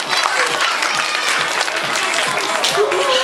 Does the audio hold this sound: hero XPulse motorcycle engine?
no